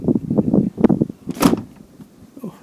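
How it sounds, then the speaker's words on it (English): A Land Rover Defender door shuts with a solid thud after some shuffling and handling noises close by, followed by quieter rustling. "Oh, even the doors sound new."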